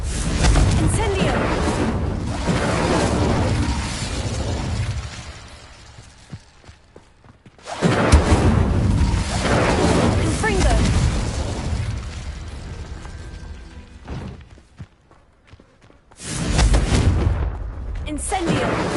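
Incendio and Confringo fire spells cast repeatedly in Hogwarts Legacy, bursts of fiery blasts and crackling impacts in three loud clusters separated by brief quieter gaps, with a voice calling out spell names.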